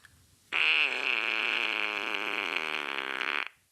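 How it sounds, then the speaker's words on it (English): A long, loud, guttural fart sound effect, buzzy and sustained for about three seconds before cutting off abruptly. "Gnarly farts. Brought to you by our sound effects sponsor, Sweet D."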